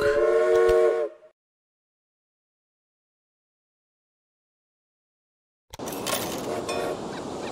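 A steam locomotive whistle in the Railway Empire railway management game sounds one loud, sustained blast, then cuts to silence, followed by louder train and game noise near the end.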